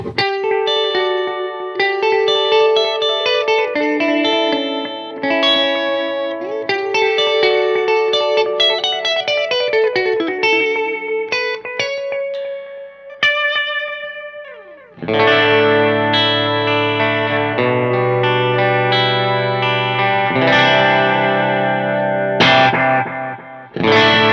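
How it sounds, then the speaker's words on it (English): Clean electric guitar notes and chords ringing out through an analog bucket brigade delay pedal, soft echoing repeats trailing behind, played alone with a gentle modulated shimmer. "it's a very pristine sounding delay for a Bucket Brigade delay pedal"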